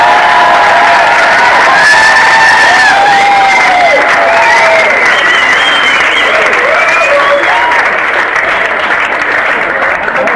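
Loud, sustained audience applause and cheering for a singer at a concert hall, with whoops and shouting voices rising over the clapping throughout.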